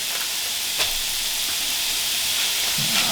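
Turkey burgers with cilantro sizzle steadily in a pan, a close, continuous hissing fry with a few soft pops and a faint scrape near the end.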